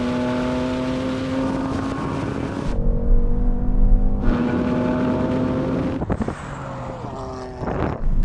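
Close, loud engine roar as a BMW M3 Touring and an AMG C63 S estate launch in a drag race, the revs climbing through several gear changes with short breaks between pulls.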